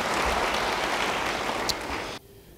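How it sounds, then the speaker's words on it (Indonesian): A church congregation breaks into dense, loud applause that fills the room evenly and then cuts off abruptly near the end. "Yang percaya, beri tepuk tangan bagi dia."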